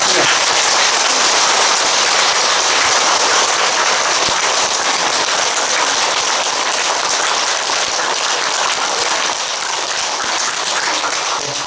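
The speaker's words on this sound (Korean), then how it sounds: "여러분 모두를 위해서 그리고 온 우주 모든 중생들의 행복을 위해서 박수 한번 칩시다." A Buddhist temple congregation at a first-day-of-the-lunar-month service bursts into sustained applause, a dense, even roar of many hands clapping that holds steady throughout, loud and close, with no speech over it.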